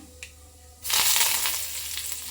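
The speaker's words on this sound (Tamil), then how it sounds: "இப்போது எண்ணெய் காஞ்சிருச்சு. கடுகு போட்டுக்கலாம்." Mustard seeds dropped into hot oil for a tomato chutney burst into a loud, steady sputtering sizzle with crackling pops, close up and alone after a short quiet lead-in.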